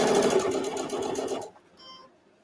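A sewing machine stitches fabric along the edge of the presser foot for a microwave potato bag, running loud and steady for about a second and a half before stopping abruptly, followed by faint quiet handling.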